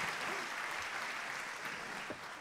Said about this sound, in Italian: fate un applauso a Giulia che è bellissima stasera.